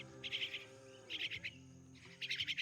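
Several myna birds call in close, bright chirping bursts, three clusters of rapid repeated notes separated by short pauses, over a faint low background hum.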